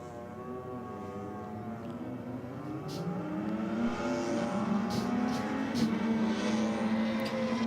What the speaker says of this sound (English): Brett's brother Shane is out now in the Aeroflow lane on board the Kawasaki H1 500.